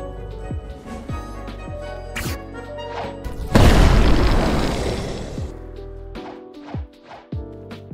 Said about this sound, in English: C Dragon Explosion.